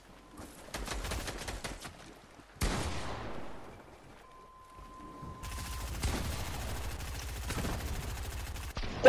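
Video game gunfire: sharp bursts of rapid shots and single cracks, separated by short pauses, with a louder sustained volley in the second half.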